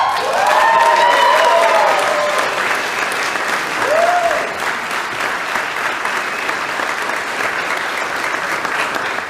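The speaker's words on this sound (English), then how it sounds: "She deserves every bit of that applause." Applause at a Tulsa awards ceremony, dense clapping from a large audience with a few whoops and cheers rising over it early on, holding steady throughout.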